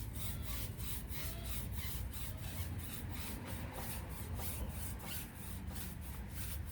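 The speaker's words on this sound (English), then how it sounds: "So I'll start scrubbing." A stiff bristle brush scrubs a car tire, working into the tread grooves with fast, steady back-and-forth strokes, close and continuous rasping throughout with no talking.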